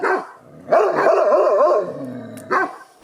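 Small dogs bark and yip close by at a renovation site, a few sharp barks followed by a longer wavering whine-like growl, then one more bark at the end.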